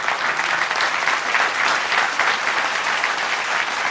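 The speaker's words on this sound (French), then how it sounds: "Maximum d'applaudissements pour lui quand même." Studio audience applause on a televised sports talk show about Congolese football, dense and loud clapping sustained evenly throughout with no voices over it.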